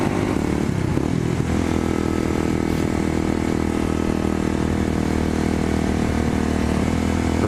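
A Kawasaki KLX motorcycle engine drones steadily at high speed into a headwind, loud and close, with a constant roar and some wind rumble throughout.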